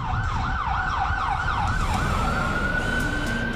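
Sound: sirens wailing in the empty streets of New York

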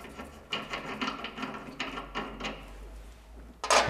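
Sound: loosening and removing a nut on a jointer-planer

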